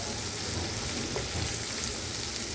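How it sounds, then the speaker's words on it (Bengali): Shrimp and fish sauté steadily in a pan with red amaranth greens, a loud, dense, unbroken sizzle heard close up with no voices. "আমি অনেকটা সময় ধরে কষাচ্ছি মাছটাকে"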